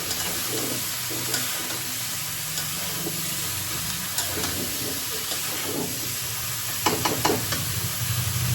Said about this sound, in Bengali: তরকারিটা সুন্দর করে কষিয়ে নেব